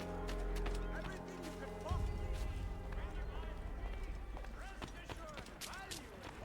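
Rapid hoofbeats of a galloping horse in Assassin's Creed 3, with clattering effects and a steady background hum, fairly loud throughout.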